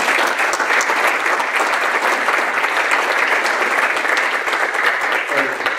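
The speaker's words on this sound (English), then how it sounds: "Let's give those guys a round of applause." A conference keynote audience breaks into loud, continuous applause for team members standing up, a dense even wall of clapping filling the room for several seconds.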